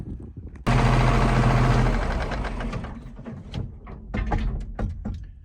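An old White tractor engine starts up with a sudden loud burst, then settles into a rough, knocking idle with irregular clattering peaks, heard close with no speech.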